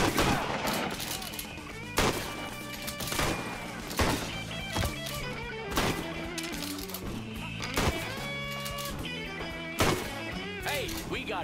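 Gunfire in the video game Mafia III: loud, separate shots and bursts every couple of seconds, mixed with game sounds and background music, with people talking in between.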